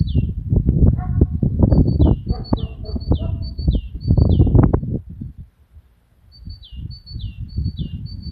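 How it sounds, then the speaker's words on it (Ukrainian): Birds chirp in repeated short high calls on a clear frosty morning, coming in bursts over louder low rumbling and shuffling noise, with a quieter stretch in the middle. "пташечки співають."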